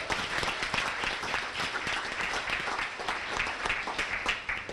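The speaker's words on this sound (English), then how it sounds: "I'd also like to give a big round of applause to our all sports boosters for sponsoring the banquet" Sustained applause from a crowd at a high school sports banquet, dense steady clapping filling the room without pause.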